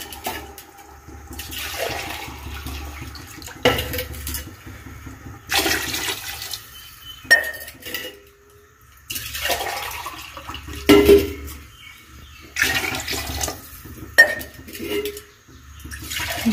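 Water poured into a pot for cooking rice, heard as repeated bursts of splashing and pouring separated by short pauses, close by, with light clinks of pots and utensils between.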